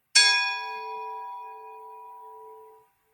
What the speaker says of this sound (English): 8 seconds, it's a couple bell rings